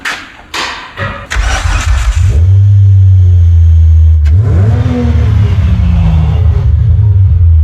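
Ice racing car engine cranking over with a few sharp catches, then firing into a loud, deep, rumbling idle with one quick rev blip midway, close to the car and with no talk.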